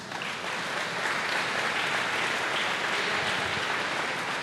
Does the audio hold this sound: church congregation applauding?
yes